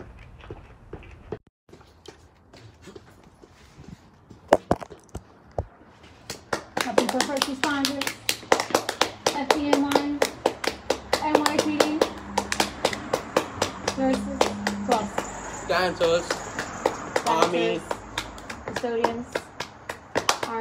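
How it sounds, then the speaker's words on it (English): Clapping for heroes: at first a few isolated claps, then steady rhythmic hand clapping close by, with a child and an adult talking throughout. "time to clap"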